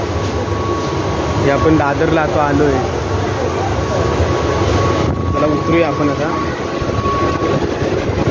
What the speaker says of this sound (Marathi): ही अशी आमची लोकल ट्रेन असते.